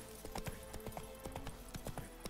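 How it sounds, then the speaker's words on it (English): Hooves of a galloping horse in the fantasy video game The Witcher 3, a steady quick clip-clop rhythm of moderate loudness, with soft music droning underneath throughout. "the sound of a galloping horse"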